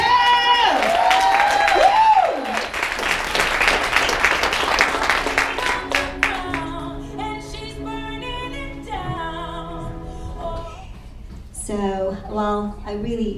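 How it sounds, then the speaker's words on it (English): Audience applause and cheering at a women's gala as a speaker comes on stage, dense clapping with whoops at first, then fading as a singing voice and music take over, with more scattered cheers near the end. "keep on clapping as we bring our next speaker to the stage"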